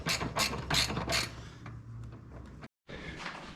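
A ratchet spanner clicks in four quick bursts while tightening bracket bolts for an ARB air compressor on a Y62 Nissan Patrol, then slower, fainter ratcheting follows, broken by a brief silence near the end.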